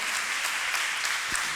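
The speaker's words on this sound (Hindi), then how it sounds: "तो इनके लिए बहुत सारी तालियां हो जाए।" Audience applause for a chief guest at a summer camp cohort certification ceremony, a steady wash of many hands clapping together at moderate loudness from start to finish.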